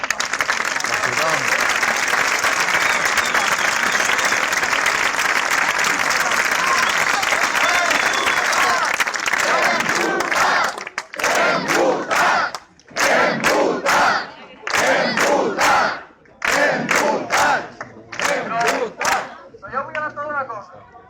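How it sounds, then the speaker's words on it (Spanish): A crowd at a Corriente Roja anniversary gathering breaks into loud, sustained applause and cheering for about ten seconds, then a voice speaks in bursts over the fading crowd noise. "crec que ens mereixem un altre aplaudiment"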